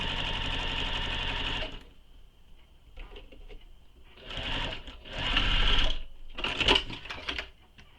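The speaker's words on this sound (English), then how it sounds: "after I get all these pockets sewn on" A sewing machine stitches pockets onto a leather wallet in several loud bursts, with a steady whirring run at the start and shorter runs later, separated by quieter pauses.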